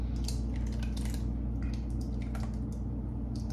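Vodka sauce being poured into a pot of sausage and pasta, giving soft wet squishing and dripping sounds over a steady low kitchen hum, with faint utensil clinks.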